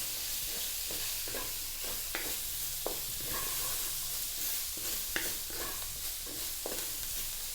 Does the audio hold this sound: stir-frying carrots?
yes